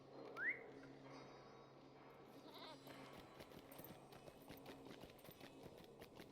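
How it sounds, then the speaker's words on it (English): A goat mount in the Lord of the Rings Online video game gives a brief bleat, followed by faint, steady clip-clop hoofbeats as it moves along, quiet throughout. "I can use my goat here."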